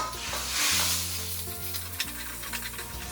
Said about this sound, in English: we're gonna fry them medium to high heat